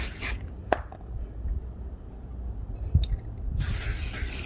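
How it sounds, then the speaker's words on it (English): Cleaner is sprayed onto a Commencal Clash mountain bike wheel in two bursts, a hissy spray at the start and a longer one at the end, with a click and soft rubbing between. "Just spray it directly onto the wheel."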